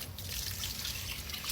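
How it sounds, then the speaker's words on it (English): Filtered water poured over roasted bones in a cooking pot, a steady close splashing and trickling that runs unbroken for a moment with no talk. "Cover it in water, filtered water."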